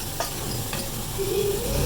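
Steady sizzling and crackling hiss of hot tempering oil poured into Peshawari pulao, continuous and fairly quiet with a faint whistling tone near the end.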